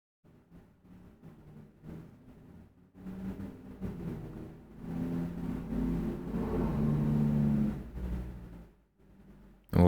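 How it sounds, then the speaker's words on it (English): A loud truck rumbles past nearby, its low engine roar building from a faint idle to a sustained heavy drone before fading, with a sharp thump at the very end. "Loud truck. That was a super loud truck."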